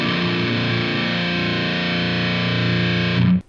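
A distorted electric guitar riff sustains heavily before closing on a hit open string, then cuts off abruptly at the end, with no voices.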